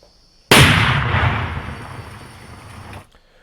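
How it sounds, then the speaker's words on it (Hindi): A 2 kg IED detonating during defusal in a forest near Chaibasa, Jharkhand: one sudden, loud blast followed by a roaring, rumbling decay that fades over about two and a half seconds. "जब डिफ्यूज किया गया उस दौरान तेज आवाज, तेज धमाका भी हुआ"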